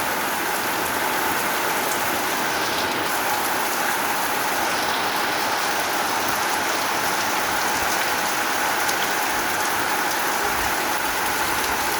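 Steady monsoon rain pours over an open field in Bangladesh, a dense, unbroken hiss of drops on surfaces that holds at the same level from start to finish, with no voices.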